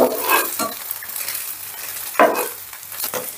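An egg omelette fries in a pan with a steady sizzle, while a spatula scrapes and turns it in a few loud strokes, the clearest one near the end, and no one speaks.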